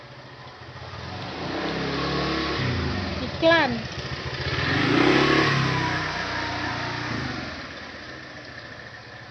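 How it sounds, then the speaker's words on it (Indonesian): A motorbike passes on a street where a festive ondel-ondel street performance is under way, its engine note rising and falling over roughly two seconds amid steady crowd background and nearby talking voices. "Ada motor, Dek. Minggir, Dek."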